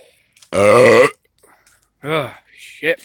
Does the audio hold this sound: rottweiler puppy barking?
no